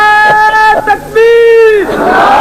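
At a religious gathering, a crowd shouts a slogan in unison, long sustained chanted cries answering a lead voice, loud and close, with a brief drawn-out call followed by the massed response.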